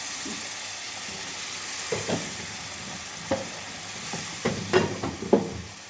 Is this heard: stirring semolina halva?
yes